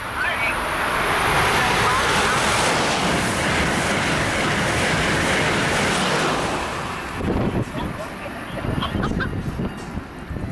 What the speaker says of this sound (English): That was a noisy train.